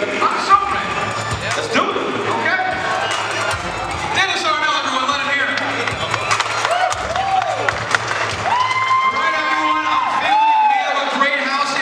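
Crowd at an NXT wrestling show in Sanford cheers, whoops and applauds for ring announcer John Klusko, a noisy live-arena roar with shouts rising and falling throughout.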